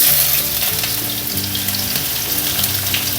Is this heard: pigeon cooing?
no